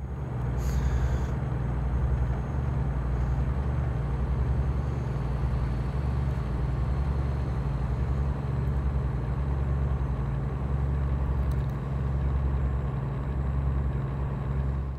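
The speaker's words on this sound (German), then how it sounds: "der Motor blubbert auch schon ein bisschen besser." A truck engine in American Truck Simulator drones steadily while cruising on a highway, a low continuous burbling rumble with no talk over it.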